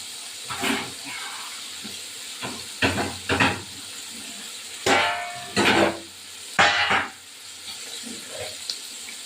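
Tengra fish in a wok of hot oil, bursts of loud sputtering sizzle flaring up several times between quieter stretches of gentle frying, close and without speech.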